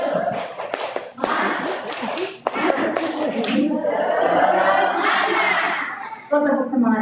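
Workshop participants, teachers at an early-childhood training session, clap together in a short rhythmic spirit-clap pattern of sharp, close taps, with laughter and someone speaking over it.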